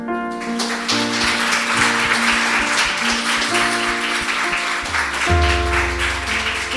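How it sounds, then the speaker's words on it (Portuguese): A church congregation applauds at a healing service, a steady, dense wash of clapping that runs the whole stretch alongside sustained keyboard tones. "dê um aplauso ao Senhor"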